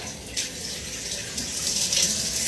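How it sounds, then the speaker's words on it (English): Cold shower water runs in a steady, hissy stream, close and moderately loud, with no voices over it. "I was thinking about skipping the whole cold shower thing"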